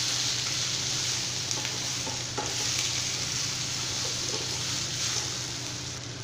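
Boiled raw banana and onions are stirred in a frying pan, a steady loud sizzle with a few scraping spatula strokes running close and continuous, no voices.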